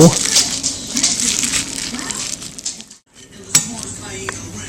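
A spoon scrapes and scoops the soft middle out of a cooked spaghetti squash half sitting in a bowl, giving light clinks and scraping against the dish. Someone talks over it, with a short pause partway through.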